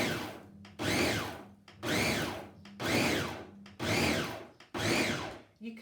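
A food processor mixes seeds briefly through a rice dough for vegan crackers, running in six short pulsed whirring bursts of about a second each, separated by brief pauses, close and fairly loud.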